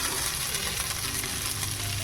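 Frying in hot oil in a pan after paneer pieces were fried with turmeric, a steady close sizzle and crackle that runs alone throughout.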